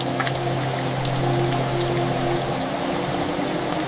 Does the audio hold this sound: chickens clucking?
no